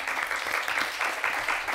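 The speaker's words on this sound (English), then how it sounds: "Let's give them a round of applause." Audience at a journalism debate event applauding, a short burst of dense, even clapping from many hands, moderately loud and sustained across the whole moment.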